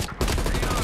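A rapid burst of automatic gunfire in the shooter game Black Ops Cold War, loud and dense, with overlapping shots rattling for under a second and a voice faintly mixed in.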